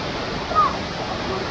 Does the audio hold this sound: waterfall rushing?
yes